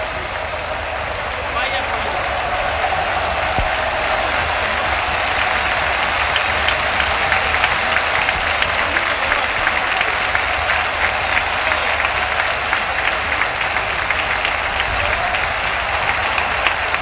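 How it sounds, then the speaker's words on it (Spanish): Football stadium crowd at Gijón, with Real Sociedad supporters among them, applauding and cheering in a sustained, roaring wash of clapping at a 1980–81 league match, with a commentator speaking over it. "en medio de los aplausos de los gijoneses y de los vítores estruendosos de los seguidores de la Real Sociedad"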